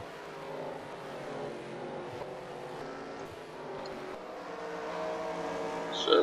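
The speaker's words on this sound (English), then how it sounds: "it looks like Jeff Gordon is one of the quickest cars on track" NASCAR Sprint Cup race cars circling a road course at the Toyota Save Mart 350, a steady distant engine drone that swells slightly toward the end.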